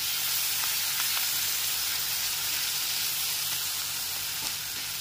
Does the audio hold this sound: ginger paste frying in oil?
yes